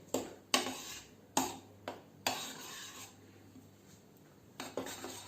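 Salt and baking powder mixed into flour in a bowl for fried chicken: several sharp clinks and scraping strokes of a utensil against the bowl, close and fairly quiet, with no talk.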